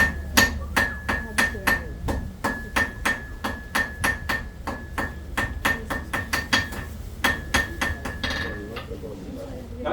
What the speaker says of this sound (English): Bring the hammer down at an angle. That's drawing it out to a nice sharp point.